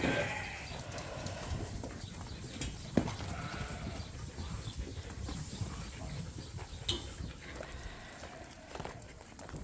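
Market lambs shuffle across a barn floor, producing a busy, continuous patter of small hooves and rustling at close range with occasional knocks, and nobody speaks.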